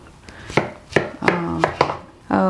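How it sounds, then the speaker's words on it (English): A knife slices pickling radish into slabs about one centimetre thick, giving five crisp, close cuts at an uneven pace with a short scrape at the end. "now you want to cut this into a slab first, about 1 centimeter thick"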